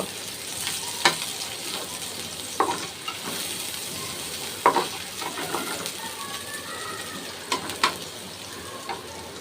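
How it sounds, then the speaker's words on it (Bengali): Onions frying in a pan for aloo paratha filling, a steady close sizzle with intermittent scrapes and stirs of a spatula, no voices. "একটু পেঁয়াজটাও ভেজে নিব"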